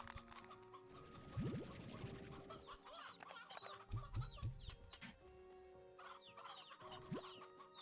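Several video game chickens cluck and squawk in short bursts over a soft, steady synthetic background tone, with one low throaty call near the middle.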